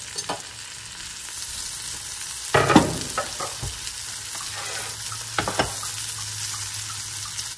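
Morel mushrooms frying in a pan make a steady, close sizzle, with a sharp burst of stirring and clatter partway through and a few more scrapes later, no voices over it.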